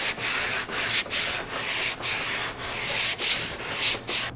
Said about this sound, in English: I'll still hit this with some sandpaper.